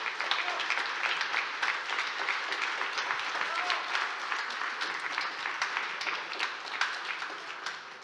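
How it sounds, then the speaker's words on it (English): Conference audience applauding, a dense sustained wash of many hands clapping that holds steady for several seconds before tapering slightly, close and full. "Please give a warm round of applause to our beneficiaries."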